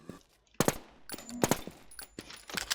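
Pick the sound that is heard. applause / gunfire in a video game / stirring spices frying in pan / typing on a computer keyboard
gunfire in a video game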